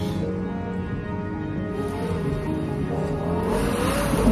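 Lexus LFA V10 engine revving hard while the car drifts, a continuous high-pitched engine note with faint tire noise, close and steady throughout.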